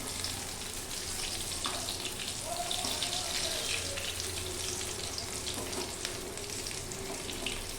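Banana flower chops fry in oil on a gas stove, giving a continuous close sizzle with a few faint clinks and no speech.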